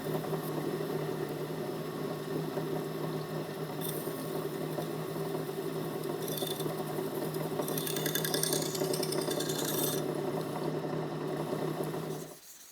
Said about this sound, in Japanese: 裏刃を出すようにして研ぎ裏押しを行う。